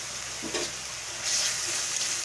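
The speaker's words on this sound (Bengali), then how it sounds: "পেঁয়াজটাকে ভালো করে ভেজে নিচ্ছি" Onions sizzling in hot oil with ginger and garlic paste, a steady close frying hiss with a brief stir around the middle and a louder burst of sizzle toward the end.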